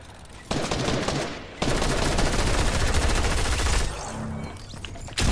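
Rapid bursts of video game gunfire crackle and rattle continuously, loud and dense with brief gaps, like automatic weapons and a fusillade in a shooter match, with no talk over them.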